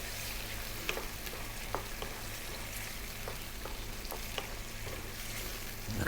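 Thick cream sizzles and bubbles in a hot pan on high heat for a pasta bake: a faint, continuous frying hiss broken by small pops and crackles.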